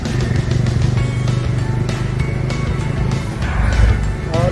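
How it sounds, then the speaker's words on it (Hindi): Loud, close road traffic on the single-lane stretch of the Mumbai Goa highway near Indapur, with the continuous rumble of motorcycles and cars passing and a whine near the end, and no clear talk. "और रस्ते में बहुत ट्रैफिक है"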